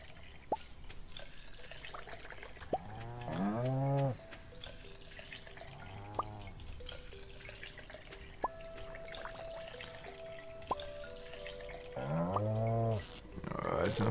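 Cows moo inside the Stardew Valley farming game, with about three long harmonic lowing calls spread across a busy backdrop of game music and small dripping, plinking effects.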